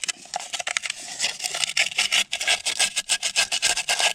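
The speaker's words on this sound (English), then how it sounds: "I'm gonna take the sandpaper and just kind of go over" Sandpaper rubs over a flywheel part from a 1997 Yamaha Vmax 700 triple snowmobile, a close, loud, rasping scrape repeated in quick back-and-forth strokes with short gaps between passes.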